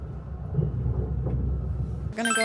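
A train pulls into a station platform with a steady low rumble for about two seconds, moderately loud. A voice cuts in at the end.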